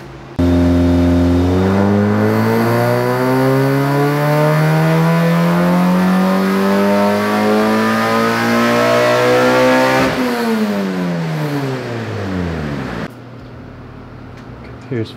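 Engine on a dyno with cam timing set to 40 degrees, revving in one long sweep that climbs steadily in pitch for about ten seconds, then winds down and drops off; loud and close, with no speech over it.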